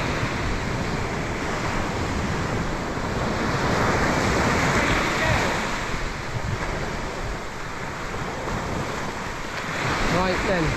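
Steady roar of sea waves surging and washing up on a beach, loud and continuous with heavy wind buffeting the microphone throughout.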